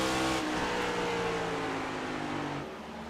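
Engines drone in a stock car racing video game at Kansas as cars head down pit road, a dense, continuous motor roar that holds level and then fades a little near the end.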